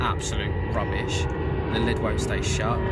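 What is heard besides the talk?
airplane flying overhead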